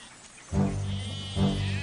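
Sheep and goats bleat twice in an audio Bible sound effect, a nearby animal call around half a second in and a second one about a second later, clear and alone with no voices.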